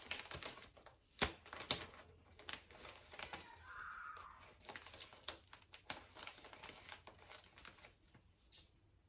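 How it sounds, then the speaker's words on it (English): Double-sided tape being handled while taping a Barbie bouquet, heard as close, faint crinkling, tapping and peeling clicks in irregular bursts, with no talking. "And now I'm gonna tape it. Use my double-sided tape."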